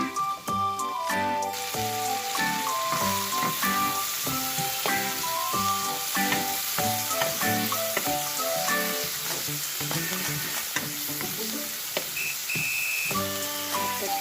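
Oyster sauce stir-fries in a hot pan before meat goes in, making a loud, continuous sizzle and crackle with stirring scrapes. Melodic background music plays underneath the whole time.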